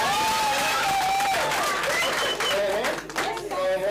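An audience clapping for Ruth at a family gathering, steady applause running under a prominent voice speaking or calling out over the crowd.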